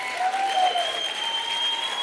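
Applause from a debate audience, a steady wash of clapping held at a moderate level across the short span, with a faint voice briefly heard over it.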